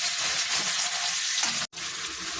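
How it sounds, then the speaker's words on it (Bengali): Chopped onions fry in oil in a pan for chicken gravy, giving a steady close hiss of sizzling with a brief gap, likely from stirring, and no talking. "এবার দিয়ে দিলাম পেঁয়াজ, এবার এটাকে হালকা হালকা করে ভাজতে থাকবো"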